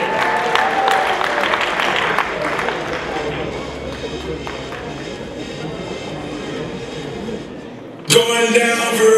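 An audience at a university KVN comedy contest semi-final bursts into dense applause and cheering that slowly thins and fades, before a sudden louder sound cuts in at the end.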